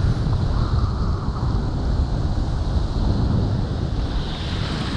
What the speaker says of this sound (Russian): Вон идет большая волна